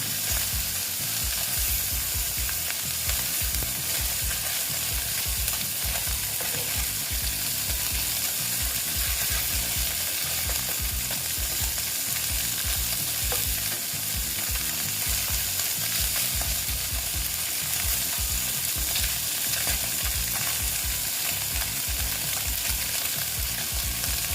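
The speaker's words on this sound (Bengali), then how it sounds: "পেঁয়াজগুলো আমি কড়া করে ভেজে নিচ্ছি" Onions frying crisp in a pan for a small freshwater fish recipe, with a steady, close crackling sizzle broken by frequent scraping stirs, dense and continuous throughout with no talking.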